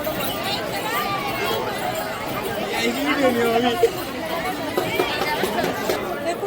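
Dense crowd of devotees thronging the Kelamba Devi temple at Kharoshi, a steady close babble of many voices and movement that swells slightly midway and stays continuous throughout.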